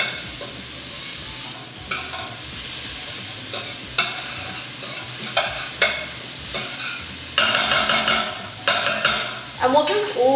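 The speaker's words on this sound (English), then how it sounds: "So we've got that onion in there, cooking up beautifully." Onion frying in a pan for Punjabi chana masala, a constant sizzle with spoon stirs and scrapes, the clacks growing quicker and louder toward the end, no talk.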